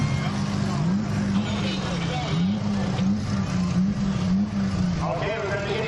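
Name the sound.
race cars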